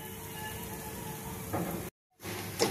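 Semai vermicelli frying golden in a pan gives a steady, close sizzle that swells briefly, cuts out for a moment, then resumes.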